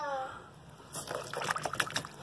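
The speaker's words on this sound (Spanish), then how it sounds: "hay agua acá, esa agua que no salía" Water sloshing and trickling in the rotten floor of a motorboat under restoration, with a brief series of close, wet splashes and drips after a quiet start.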